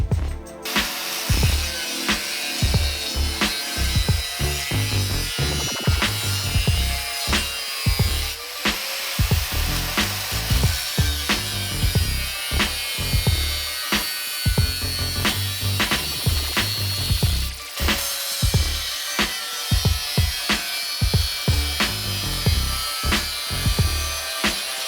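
A new Bosch grinder cuts material for an electronics box on a Yamaha XV750 motorcycle build. The grinding comes in loud, rough, repeated bursts with short pauses between strokes, and no one speaks over it.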